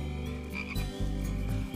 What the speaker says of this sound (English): You can hear the froggies singing.